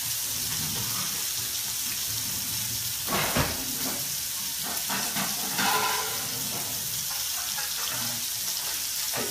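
Food sizzles crisply in a hot pan with a steady close frying hiss, with a few louder crackles and spits rising above it.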